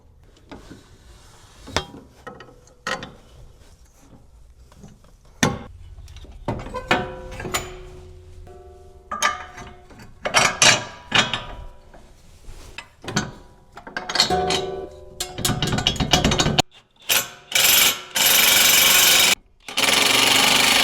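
Metal tools clink and clatter while a sway bar link is fitted on a 2005–2009 S197 Mustang GT coilover, with scattered ratchet clicks and taps, then bursts of loud, rapid impact-wrench rattling near the end.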